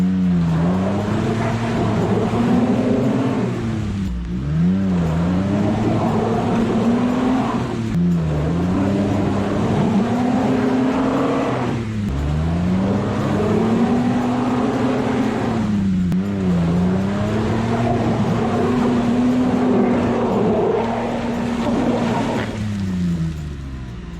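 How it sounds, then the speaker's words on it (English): A Mitsubishi Pajero works to get unstuck on frozen sand, its engine droning loudly and steadily with repeated rising and falling revs in cycles of a few seconds, close and continuous throughout. "Later decided to drive Pajero back to get unstuck."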